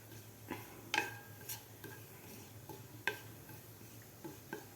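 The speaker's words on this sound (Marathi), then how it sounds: "जिरेसुद्धा थोडेसे आपल्याला फ्राय करायचे आहेत" Coarsely crushed cumin frying lightly in oil for a peanut and raw mango chutney, heard as a faint, soft sizzle broken by a few sharp clinks and scrapes of a spoon stirring in the pan.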